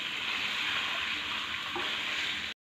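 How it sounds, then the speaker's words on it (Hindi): Chicken curry frying in a pan makes a loud, steady sizzle with faint stirring scrapes, no talk, stopping abruptly just before the end. "और इसको करेंगे हम तकरीबन तीन चार मिनट फ्राई अच्छे तरीके से"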